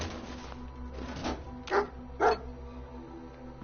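A dog in a video game gives two short, distinct barks close by, following a faint yip, over a low steady game background hum; a voice speaks briefly at the start.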